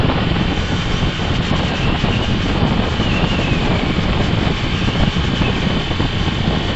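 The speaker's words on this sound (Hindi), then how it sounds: "आप देख रहे हो कि बाइक अभी मैं 60 की स्पीड पे चला रहा हूँ।" Steady, loud broadband engine roar with heavy wind rush, continuous and unbroken, from a Hero Glamour 125cc BS6 motorbike cruising at about 60 km/h close to the microphone.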